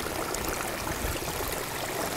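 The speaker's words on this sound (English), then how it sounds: "So we got a total of 1, 2, 3, 4, 5 little waterfalls." Running water from five small waterfalls in a newly built backyard pond, a steady broadband splashing and trickling wash, close and continuous with no voices.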